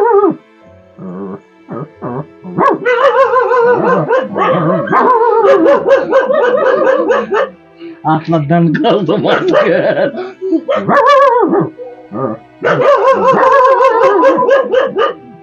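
A voice imitates a pack of village dogs barking in a pitch-dark night, with yaps and bow-wows mixed into continuous close, loud speech and chuckles.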